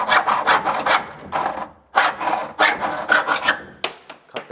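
Hand-sawing through electrical conduit pipe, close, rhythmic rasping strokes in quick back-and-forth bursts with short pauses, no voices.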